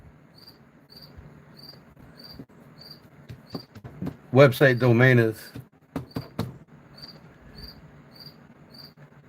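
An indoor cricket chirps in short, regular high-pitched pulses that run steadily through the scene, while someone talks in the middle.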